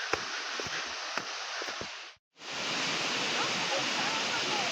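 The waterfall near Sim village in Astara roars as a constant broad rush of falling water, briefly cut out before returning loud and steady, with a few soft knocks early on.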